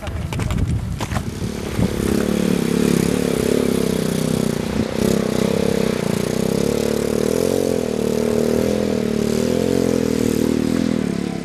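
A motorcycle engine runs on the trail up Mount Papandayan, a steady loud drone that rises after a brief clattery start and holds for about ten seconds, close by and fairly constant.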